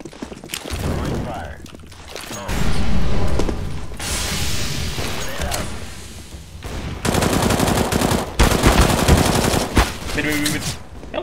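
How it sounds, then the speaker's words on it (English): Gunfire in a Counter-Strike style video game played on a desert map, several loud bursts of rapid shots with mechanical clicks between them, while players talk over it. "Random shooting."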